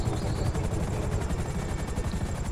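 Helicopter in a GTA Online race on Cayo Perico island, a steady thudding rotor chop with dense low rumble, loud and continuous throughout with no talk.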